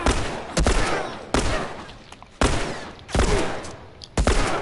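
Loud bursts of gunfire from weapons in The Last of Us Part II on PS4, five sharp volleys spaced about a second apart, each with a brief rattling tail.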